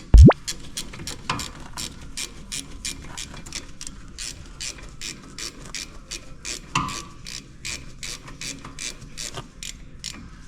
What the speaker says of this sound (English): Start your bolt, tighten it down.